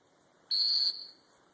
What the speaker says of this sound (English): I would do that with a sit whistle.